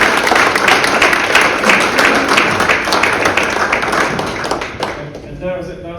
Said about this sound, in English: that was an amazing applause for the last session of the day